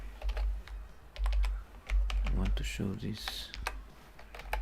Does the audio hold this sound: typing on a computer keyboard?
yes